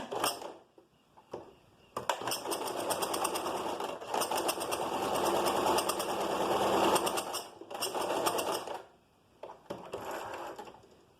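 A sewing machine stitches piping in several close, loud bursts of rapid needle rattle, the longest running several seconds, separated by short pauses with quiet handling noises.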